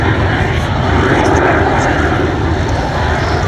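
De Havilland Vampire, a 1950 turbojet aircraft built at Christchurch, roars past during an air display, a loud steady broadband rush sustained throughout with no gaps.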